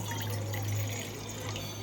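Water is poured into a glass to make green tea, a steady gentle splashing stream over a low hum, close and continuous for the whole moment.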